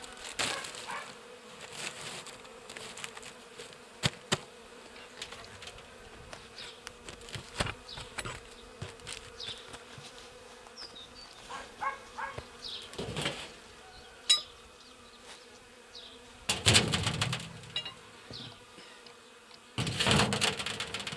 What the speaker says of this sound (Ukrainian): Ось таким чином я оглядаю сьогодні бджолородини, ті, які не перейшли у верхні корпуси.